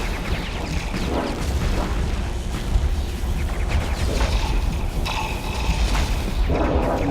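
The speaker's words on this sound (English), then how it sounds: "So let's fire off some missiles." Missile launches in the space combat game Starsector, heard as a dense, continuous wash of low booms and mechanical rumble with scattered sharper bursts, steady and loud throughout with no talking.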